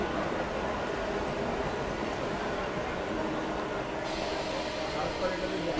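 A Krishnanagar–Sealdah galloping local train passes at Palta station, heard from another moving train. The rail roar is loud and continuous, with a steady rumble and hiss under a speaking voice.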